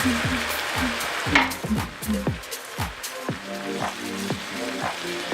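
Dry white wine hits a hot pan of mushroom risotto and sizzles steadily, with the scrape and knock of a spoon stirring in a repeating rhythm, close up and unbroken by talk.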